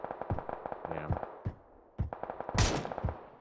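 Gunfire in PUBG on the Miramar desert map, a series of sharp, separated shots and short bursts at mid distance, with talk faintly mixed in among the cracks.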